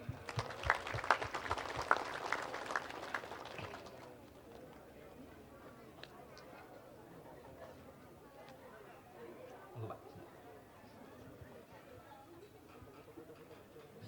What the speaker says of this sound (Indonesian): Tepuk tangan untuk Pak Tudung.